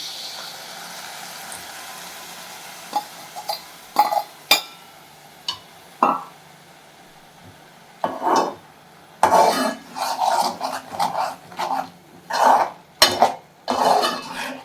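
Goat blood and cooked goat intestine are stirred in a pan, giving intermittent scraping and clinking strokes of a spoon against metal, sparse at first and then coming in quicker, louder bursts with short pauses between.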